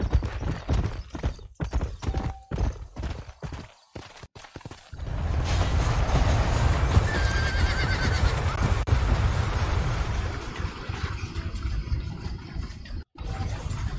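Horse hooves clop in an uneven rhythm while riding in the Western video game Red Dead Redemption, then give way to a steadier trotting rumble with a faint creak, without clear speech.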